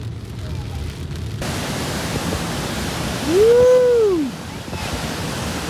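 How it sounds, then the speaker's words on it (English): A raging mountain waterfall in Norway roars as steady broadband rushing noise throughout, with a voice briefly exclaiming over it midway. "Look at that waterfall. Wow, it's right. That's raging."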